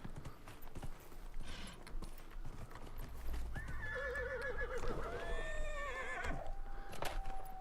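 Horse hooves clip-clop at a steady gallop in Dragon Age Inquisition, joined midway by a loud, drawn-out neigh and whinny over a low game rumble.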